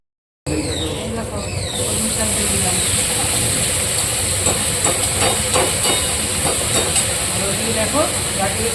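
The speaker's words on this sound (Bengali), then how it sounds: "দেখো গাঁটুকুচি লাল করে ভাজা হচ্ছে।" Taro stolons being fried red in a pan, a loud, dense, steady hiss of frying oil heard close by with occasional crackles, no one speaking.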